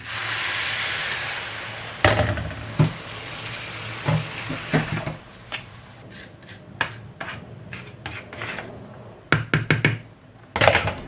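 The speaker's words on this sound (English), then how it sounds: "I'm gonna add some water." Water is poured into a pan of coconut-milk fried rice while it cooks, giving a soft rushing pour, followed by sharp clinks and knocks of utensils against the cookware, sparse and close, with no talk.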